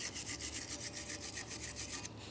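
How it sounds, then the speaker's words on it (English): A wire brush scrubs the bushing seat and inner ports of a 2006-2012 Ford Fusion front steering knuckle, giving fast, even rasping strokes up close with no talking. "Use a wire brush."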